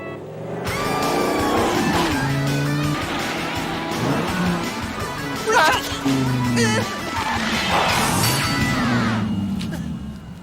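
Cartoon amphibious car engine revving and roaring over a musical score, with tire squeals and skids, a loud burst near the middle, while characters talk over it.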